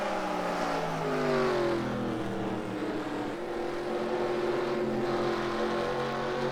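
Stock race cars roar around the oval at Columbia in a Grand National Series race, a steady layered engine drone with several pitches rising and shifting as cars run together, with no talk over it.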